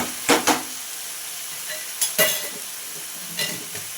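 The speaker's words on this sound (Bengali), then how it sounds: "চিনি দিয়েও আরও একটু কষিয়ে নেব মশলা" Masala spices with sugar stirred in hot oil in a pan for an eggplant and yogurt dish, giving a steady close sizzle broken by a few sharp scrapes and clinks of the spoon.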